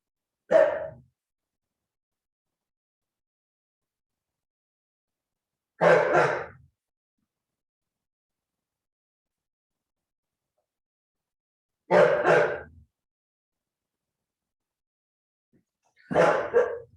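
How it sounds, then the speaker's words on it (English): A dog barks at a cat in short isolated bursts, four separate barks spaced several seconds apart with silence in between, fairly close and moderately loud. "Stop barking at the cat."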